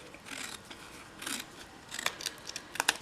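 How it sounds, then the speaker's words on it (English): Scissors snipping by hand through a die-cut edgelit birthday card, following an impressed cut line: a run of close, crisp paper cuts with short rustles between, growing sharper and more frequent toward the end. "Let me go ahead and cut this apart."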